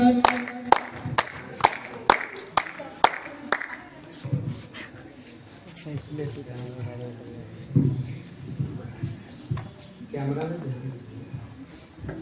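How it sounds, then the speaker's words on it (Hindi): Audience at a charity swimming event at MH Club & Resort in Ranchi claps in a steady rhythmic run of about eight sharp claps, then a voice takes over and talks on over faint room noise. "Clap everyone."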